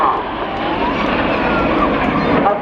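Roar of aerobatic jets flying in formation through a shuttle roll at the RIAT air show, a loud, steady broadband rush that holds for the whole moment with no break.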